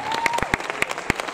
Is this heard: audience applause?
yes